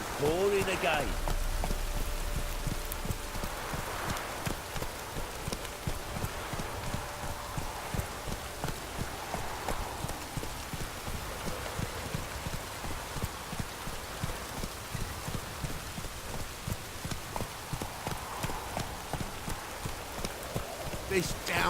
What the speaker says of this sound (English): It's ploughing, pouring again.